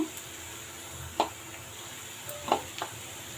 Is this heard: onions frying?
yes